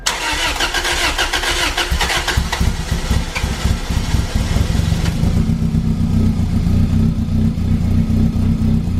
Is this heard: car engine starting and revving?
yes